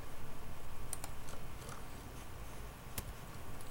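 Computer keyboard typing with a steady run of quick, light key clicks and a few sharper taps, close and fairly quiet, with no voices.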